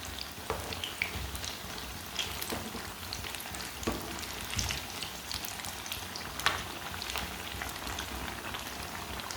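Chinese-style chicken kebabs fry in a pan with a soft, continuous crackling sizzle. Occasional sharper pops and clicks stand out from the quiet, steady background.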